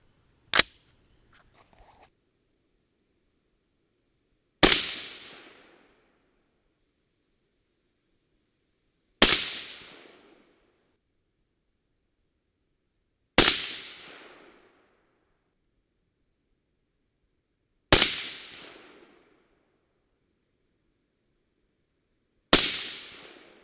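A rifle fires 22.6-grain AR-Comp handloads, Mk262-style, six sharp loud cracks spaced evenly about four to five seconds apart, each with a short decaying echo tail, silence between and no talking.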